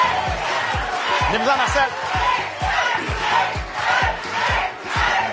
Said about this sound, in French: Et la foule se fait entendre.